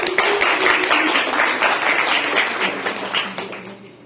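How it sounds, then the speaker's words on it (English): A room full of people gives a round of applause for a man named Kenneth at a certificate presentation event, the clapping steady and dense throughout before gradually tapering off. "a round of applause for him"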